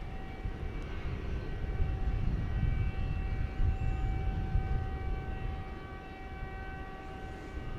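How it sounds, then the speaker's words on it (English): An aircraft air start unit whines at UPS on the grounds of DFW Airport at night: a steady, distant high-pitched drone with faint tonal lines, sitting over a broad, continuous rumble of airport engine noise. "you might hear the whine in the background of some sort of an air start over at UPS"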